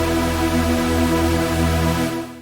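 Vital synth oscillator playing a saw wave an octave down, reshaped with form-and-scale mode, a dense sustained buzzy tone holding steady before fading out at the end, alone with no talking.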